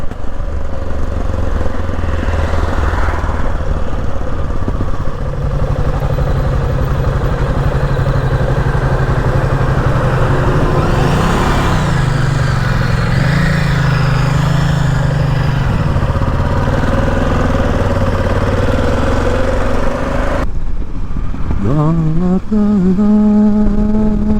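Motorcycle engine running under load on a mountain plateau road near Taşkesti, a steady loud drone with shifting pitch, then the engine note changes near the end.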